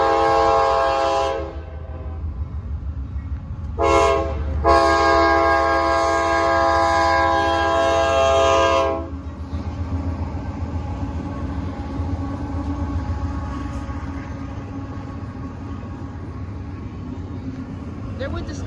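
A freight train passing near Madison, Tennessee, its horn blaring in long loud blasts with a brief break, then the steady heavy rumble and clatter of railcars rolling by close.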